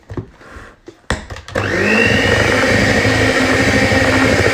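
An electric whisk whips no-bake Oreo cheesecake filling, with a few bumps and clatters before the motor kicks in around the second mark and then drones loudly and steadily, rising slightly in pitch as the speed goes up.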